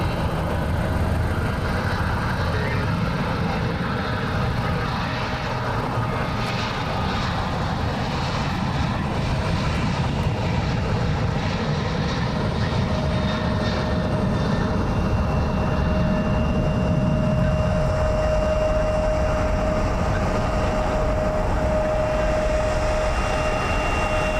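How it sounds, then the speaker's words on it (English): A CRJ regional jet at Columbus John Glenn International Airport produces a continuous, steady engine roar with a thin high whine, heard from a distance for the whole stretch. "CRJ, I think this aircraft is heading to Newark"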